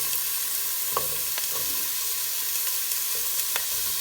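Sliced onions frying in oil in a pan, a continuous bright sizzle with scattered small pops and crackles, close and steady, no talk.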